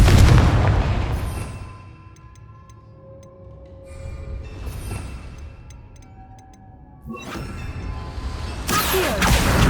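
Spell explosions from the Confringo curse in Hogwarts Legacy, inside a goblin mine, burst loudly in booming blasts with rumbling tails, one at the start, one near the middle and a final sharp crack at the end.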